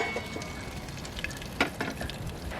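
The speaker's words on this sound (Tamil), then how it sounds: "இந்த எண்ணெயில் ஒரு 2 நிமிஷம் வதங்கட்டும்" Cassava frying in oil in a covered pan, a steady soft sizzle with occasional crackles and a brief louder pop partway through, no voices.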